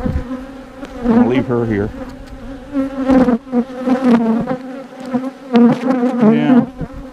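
Honeybees buzz steadily and loudly around open nuc hive frames as a beekeeper works through them, with someone talking briefly over the continuous hum.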